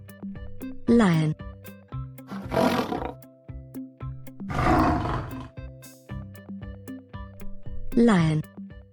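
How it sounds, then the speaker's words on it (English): A lion roars in short bursts over a light musical backing, loud and close, with spoken words between the calls. "Lion."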